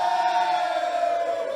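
A crowd applauds and cheers in a steady, dense wash of sound that fades slightly at the end.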